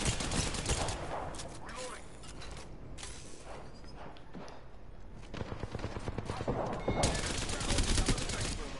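Dense, sustained video-game gunfire fills the whole stretch, bursts of rapid automatic shots over a constant din, with the heaviest volleys near the end and voices faintly underneath.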